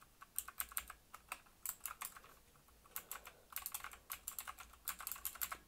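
Rapid typing on a new computer keyboard, with clustered bursts of sharp key clicks in irregular rhythm, close and fairly quiet, with no voices.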